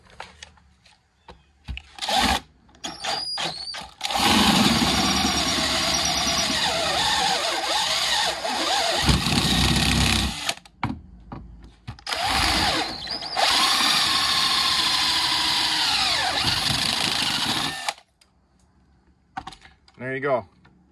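A power drill bores into metal with cutting fluid applied, running in two long loud bursts with short spins and pauses between, heard close up.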